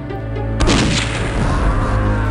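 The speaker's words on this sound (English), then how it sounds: "You can't use flares down this hallway either" A flare gun fired down a hallway in the DOS shooter game Blood gives one sudden loud boom that rolls on as a heavy, sustained rumble, close and with no talk.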